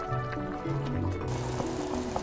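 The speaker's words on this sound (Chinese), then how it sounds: "然后加水慢慢熬煮" Water pours into a pan of black sturgeon already fried until golden in oil, a steady liquid filling and splashing sound heard close up with no voices.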